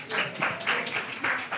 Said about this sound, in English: Quick round of applause for my panelists.